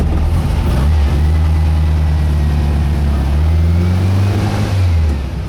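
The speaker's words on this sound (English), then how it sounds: "It's a 1600, what I call a super 1600. It's a little high compression motor, dual quadrons" A Volkswagen Beetle with a high-compression 1600 engine on dual carburetors revs steadily while driving, a loud, continuous air-cooled engine drone that rises and falls in pitch throughout.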